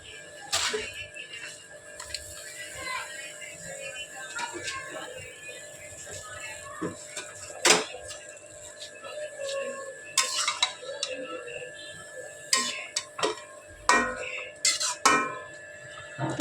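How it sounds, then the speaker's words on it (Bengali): Spinach cooking in a pot is stirred with a utensil, giving intermittent sharp clinks and scrapes against the pot over a low simmering background, with occasional brief voice sounds. "ভালো করে নাড়াচাড়া দেবো"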